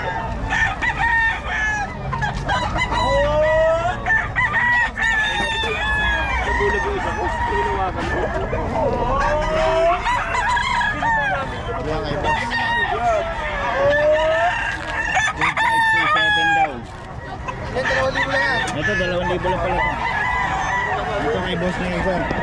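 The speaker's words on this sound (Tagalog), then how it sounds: "Manok siguro." Roosters crow again and again over a constant din of clucking chickens at an open-air market in Bocaue, loud and close, with occasional honking and voices mixed in.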